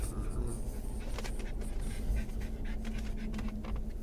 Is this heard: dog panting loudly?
yes